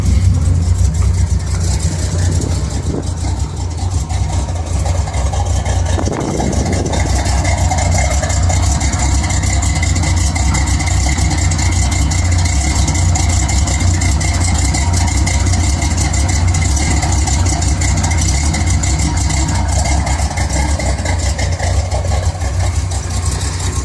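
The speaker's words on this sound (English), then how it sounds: "Pretty healthy sounding exhaust and a pretty low idle." A 1973 Corvette Stingray V8 engine idling nearby with a deep, steady exhaust rumble and low idle, loud and continuous, with a brief change in tone early on.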